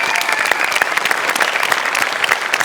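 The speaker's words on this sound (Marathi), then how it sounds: "एकदा बाबांसाठी जोरदार टाळ्या जाऊ देतात." A studio audience at a Marathi comedy show claps loudly and steadily for Baba, a dense and continuous burst of applause with no talking over it.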